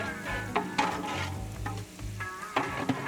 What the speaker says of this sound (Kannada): ಉಪ್ಪಾಕಿದ ತಕ್ಷಣ ಈರುಳ್ಳಿ ಬೇಗ ರೋಸ್ಟ್ ಆಗುತ್ತೆ ಅಲ್ಲ ಗುರುಗಳೇ?